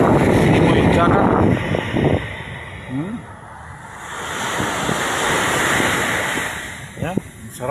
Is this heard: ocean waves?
yes